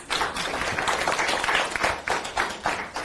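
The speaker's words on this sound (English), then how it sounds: "And then can you give yourselves a round of applause?" A round of applause rises from the crowd at a city manager listening session, a dense patter of clapping pulsing in waves for a few seconds.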